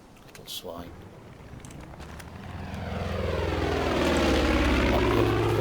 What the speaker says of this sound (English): That plane scared him off.